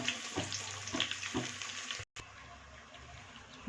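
Sliced onion and curry leaves fry in a pan for a village-style goat mutton curry, giving a moderate nearby sizzle with a few soft utensil knocks and a momentary cut-out partway through.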